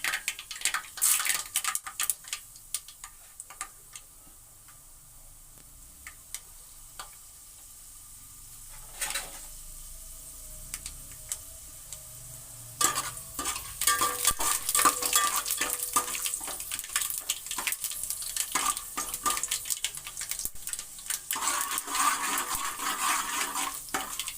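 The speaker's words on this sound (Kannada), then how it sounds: "ಅದೇ ಚೆನ್ನಾಗಿ ಸಿಡಿದ್ಮೇಲೆ ಹಾಕ್ತೀನಿ, ಇಲ್ಲಾಂದರೆ ಕೈ ಸಿಗ್ತದೆ, ಸಾಸಿವೆ ಬಾಯಿ ಸಿಗ್ತದೆ" Mustard seeds crackle and pop in hot oil in a home kitchen pan for a capsicum gravy, a dense run of sharp spluttering bursts that thins out midway and then grows louder and busier again.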